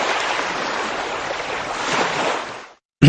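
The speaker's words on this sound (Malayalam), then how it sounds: "തിരമാല" Ocean waves at the seashore make a loud, continuous rushing wash with wind buffeting the microphone. The sound cuts off abruptly near the end.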